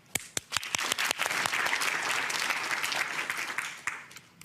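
Studio audience of a televised divorce court show bursting into applause, a few sharp early claps swelling into a dense, loud, sustained round that tapers off near the end.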